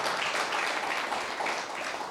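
Seated audience members at a motivational speech for government welfare secretaries in Etcherla, Srikakulam clap together, a sustained and fairly loud round of applause that runs evenly for a couple of seconds without any talking.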